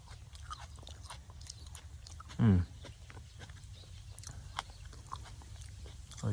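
A single close crunchy bite into a firm, juicy fresh cherry tomato, followed by faint chewing and quiet background noise.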